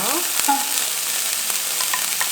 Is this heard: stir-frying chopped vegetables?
yes